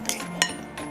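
Two forks mashing butter and shortening into flour in a bowl for a pumpkin pie crust, giving a few close metallic clinks and scrapes in quick succession.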